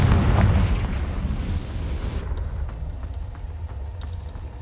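A Confringo fire spell blasts in Hogwarts Legacy inside Spinner's Cavern, a loud booming explosion at the start that rolls into a long, low rumbling decay and fades over several seconds.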